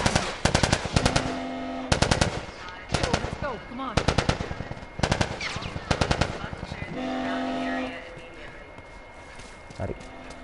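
Repeated bursts of rapid automatic gunfire from The Last of Us Remastered, played as a video game, come loud and close in short volleys separated by brief gaps, with voices in between.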